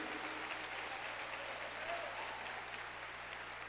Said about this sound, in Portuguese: Se é para aplaudir, vamos aplaudir.